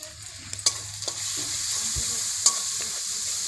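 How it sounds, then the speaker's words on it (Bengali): Snail curry sizzles in a pan as turmeric, cumin powder and Kashmiri chili powder are stirred in. A continuous hissing fry carries a few sharp spoon knocks and scrapes, close and clear. "তারপরে ভালো করে নাড়াচাড়া করে নেব"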